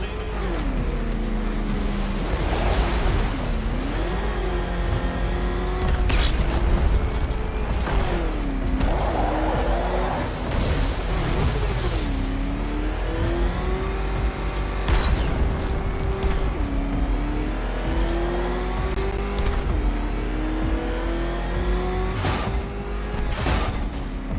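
A car motor driving fast in Batman Arkham Knight, its engine tone sweeping up and down through repeated revs and gear shifts, with occasional thuds and skids over a constant loud rumble.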